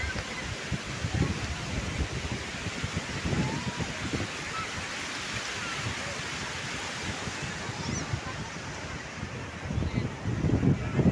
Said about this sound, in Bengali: অনেক বড় বড় ঢেউ চলে আসছে